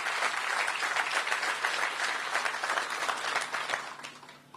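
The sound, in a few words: audience applause for council members at arena ribbon cutting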